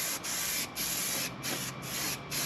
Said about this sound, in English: So we'll fold this back and we'll spray along the front edge.